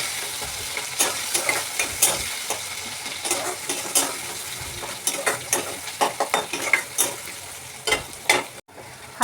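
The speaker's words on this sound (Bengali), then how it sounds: "পেঁয়াজগুলো ভালো করে ফ্রাই করবো" Onions fry lightly in a pan with whole spices, giving a steady close sizzle broken by frequent scraping stir strokes throughout, with no talking.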